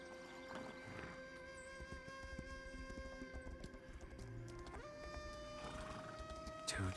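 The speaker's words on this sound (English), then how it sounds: "Let's call out the super horse." Hooves drum in a fast, continuous rhythm as a summoned super horse gallops in a video game, mixed with tonal game music and effects at moderate level, with no talking.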